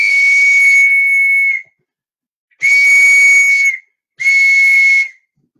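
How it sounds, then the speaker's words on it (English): A loud, piercing whistle blown three times in close succession, one long blast followed by two shorter ones with clear gaps between, shrill and steady with a breathy hiss, and no voices. "that's the new whistle"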